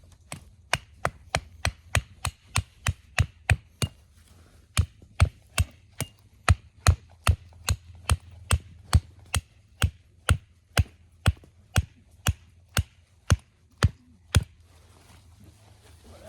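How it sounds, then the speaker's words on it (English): A Woox Terra Axe chops into a downed tree on frozen ground, delivering around thirty sharp, evenly spaced wooden strikes in a steady rhythm, close and distinct over quiet outdoor background. "I'm gonna do just a little bit more chopping here with the Woox Terra Axe."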